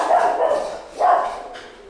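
Dog barking close by in two short bursts, loud and clear with no voices over it.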